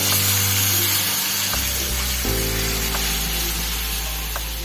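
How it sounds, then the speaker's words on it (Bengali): Steady loud sizzling and hissing of mutton cooking in a hot wok, with a brief shift in the tone partway through as hot water hits the cooking meat. "এবার আমি আগে থেকে করে রাখা গরম জল আমি এটাতে রান্নাতে অ্যাড করব"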